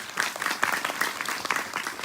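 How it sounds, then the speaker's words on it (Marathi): Audience at a kirtan clapping loudly together, a dense, steady burst of applause from a crowd close by, filling the whole moment. "एकदा जोरदार टाळी वाजवा."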